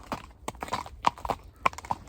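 A horse being ridden on a fresh early morning clip-clops at a steady walking rhythm, each hoof strike a sharp, distinct knock, moderately close with faint background noise between steps.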